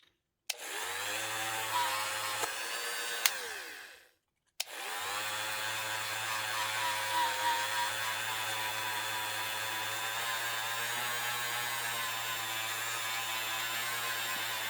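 A high-pitched rotary tool with a non-sanding bit whines steadily at close range on a metal TX-22 part, cutting out briefly before spinning back up and grinding on continuously against the hard surface.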